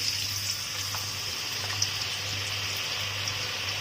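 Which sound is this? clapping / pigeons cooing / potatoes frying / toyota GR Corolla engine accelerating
potatoes frying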